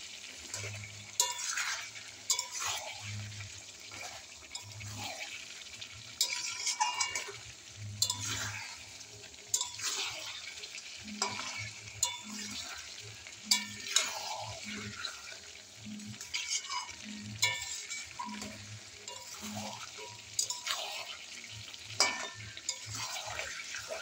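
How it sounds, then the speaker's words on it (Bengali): A spice mixture sautés in a pan, with a continuous frying hiss and a stream of scraping, clattering stirs at an irregular pace, heard close up with no voices. "এবার কাজ হচ্ছে মেন শুধু কষা, কষতে থাকবে।"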